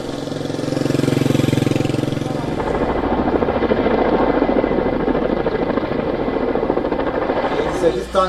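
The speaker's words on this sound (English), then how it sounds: "A helicopter was deployed to extinguish the fire in the morning" A helicopter deployed over a wildfire drones with a steady rotor thrum and engine whine, sustained and fairly loud throughout, with no voices.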